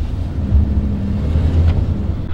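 A van engine idles just after being restarted, a low, steady rumble with some wind buffeting across the microphone.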